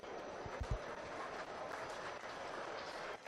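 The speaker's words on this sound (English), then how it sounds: "Let's give them a big round of applause." Audience applause at a swine show, a steady wash of clapping heard from some distance, filling the whole stretch at moderate level with a few low thumps near the start.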